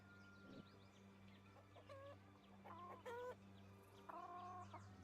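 A hen clucks in a video game, a few short clucking calls in separate bursts over a steady low ambient hum, moderately close and alone without talk.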